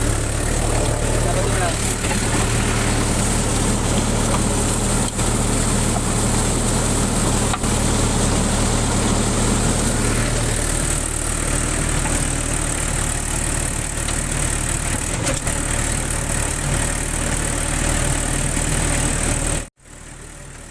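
A tractor ploughs a wet paddy field in low second gear, its engine droning steadily and close with a low hum, while someone talks over it almost the whole time until a sudden cut near the end.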